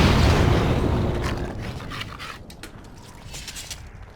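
A grenade explodes in Dragon Age: Origins, Witch Hunt, with a loud, close blast that opens with a broad roar and slowly dies away into scattered crackles and debris.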